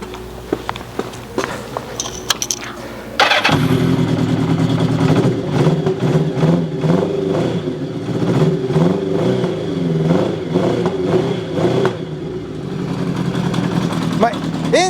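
A cold Kawasaki Zephyr 750 motorcycle engine, with one cylinder failing, cranks and catches after a few seconds of handling noise, then settles into a loud, rough, slightly lumpy idle close by before cutting out near the end.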